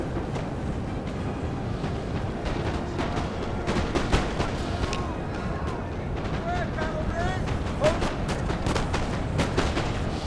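Musket volleys from line infantry firing into a flank during a Napoleon Total War multiplayer battle on Italian grasslands, a rolling crackle of many shots scattered over a constant battlefield din.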